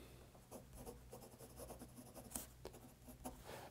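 Parker 51 fountain pen with a firm fine nib and blue cartridge ink writing on a Rhodia pad, a faint continuous scratchy rustle of strokes with small ticks between letters, very close and quiet with no talking.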